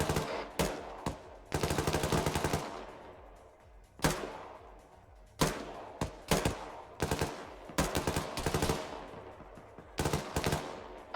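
Machine gun fire from a technical in the military shooter Arma, loud close bursts of rapid shots separated by short pauses, with sharp single cracks between volleys and no talking.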